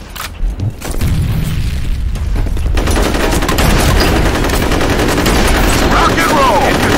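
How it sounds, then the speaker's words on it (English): Game combat in F.E.A.R. opens with a few sharp shots, then a grenade blast gives way to dense, sustained automatic gunfire that stays loud and continuous to the end. "Grenade out."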